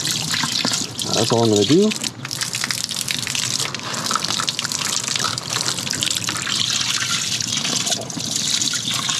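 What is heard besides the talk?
water poured into aquarium tank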